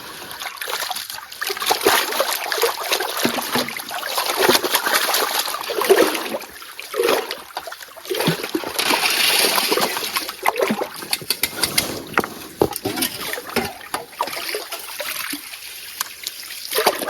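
Gold panning material is swirled and stratified in a pan of water, giving continuous close splashing, trickling and sloshing with irregular surges and brief pauses.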